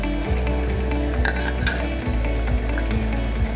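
Onions sizzling in oil with ginger-garlic paste for Hyderabadi mutton haleem, a steady close frying crackle with a few spoon scrapes and pan clinks.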